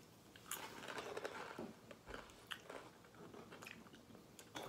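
Seasoned cracker-like candy snacks being bitten and chewed close up, with a run of sharp, dry crunches over about five seconds and no talking.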